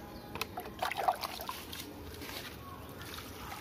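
Water poured from a mug onto garden plants, a short, faint splash and trickle near the start, then quiet outdoor background.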